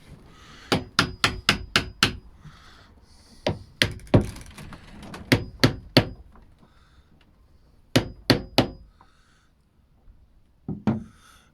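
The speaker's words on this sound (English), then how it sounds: "Hammer." Sharp hammer blows ring out in quick bursts of four or five strikes, pausing between groups, close and loud against a quiet background.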